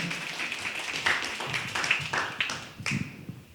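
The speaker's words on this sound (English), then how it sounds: "Can you give everybody a big round of applause for your efforts tonight?" A small group claps after a student health survey discussion session, a thin patter of a few hands close by, uneven and brief, with murmured voices beneath.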